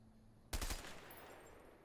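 A burst of gunfire aimed at a bottle in the co-op video game A Way Out, a sudden loud volley of three or four rapid shots followed by a decaying echo.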